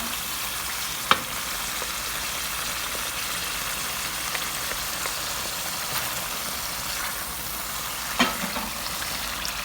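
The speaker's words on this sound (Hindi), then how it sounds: "अब हम इसको 5 से 7 मिनट तक भूनेंगे ताकि ये जो हमने सिरका डाला है वो भी ड्राई हो जाए" Mutton frying over high flame with vinegar and soaked chillies for achari gosht, a soft steady sizzle at moderate distance with two sharp utensil clanks, no voices.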